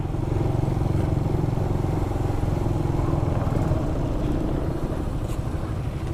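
A motorcycle engine idles and rumbles steadily at close range as the bike is maneuvered into a tight space, with a low, continuous drone and faint clatter throughout and no speech.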